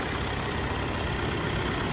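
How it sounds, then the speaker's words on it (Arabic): A 2022 Volkswagen Tiguan engine idles steadily, a smooth continuous rumble recorded close up with no voices. "كما كتسمعوا ضربة الموتور صافية."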